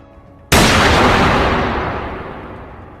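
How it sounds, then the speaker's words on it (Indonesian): A single loud gunshot from a gangster crime film cracks out after a quiet moment and leaves a long, booming decay. No one speaks. "Lalu, Lau menembak Mr. Sam."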